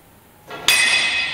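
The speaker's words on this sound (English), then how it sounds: "So I'm going to attach the other end of the chain to this pulley over here" A metal chain for weighted pull-ups is hooked onto a pulley, giving a short bright metallic clink and then a ringing jingle that lingers, close and loud, with no talking.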